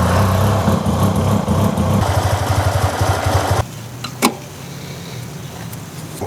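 A restored Yamaha TMax 500 scooter engine runs roughly with a rapid low chugging idle for about three and a half seconds, then cuts off, leaving a quiet room with a brief clatter.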